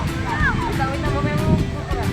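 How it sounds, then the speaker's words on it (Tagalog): Strong wind buffets the microphone with a constant low roar while flying a kite, as faint voices and a thin whistling tone drift through. "Malakas yung, malakas yung hangin eh."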